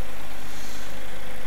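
A powerful tractor engine revs in the farming game Farm Expert 2017, a steady, dense, loud drone with a deep low rumble that holds without break.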